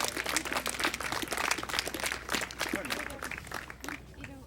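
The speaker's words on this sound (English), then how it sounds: "How about a nice round of applause for Susan Carpenter?" An audience claps for a handler being introduced at the 2007 USBCHA sheepdog finals, a steady outdoor round of applause lasting several seconds with faint crowd murmur underneath.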